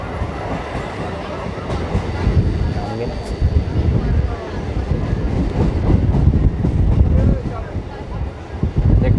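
Local train pulling into Bongaon station, a continuous loud rumble of wheels and carriage noise with gusts of wind buffeting close by, rising and swelling across the whole stretch.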